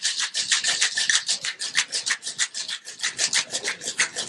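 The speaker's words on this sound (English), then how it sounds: "When you shake, we're going to go over our shoulder and make sure that ice hits the bottom and the top of that tin." Ice rattling inside a metal cocktail shaker tin, shaken hard over the shoulder in a diner kitchen; a steady, fast, close rhythmic rasping churn of rapid strokes with no talk.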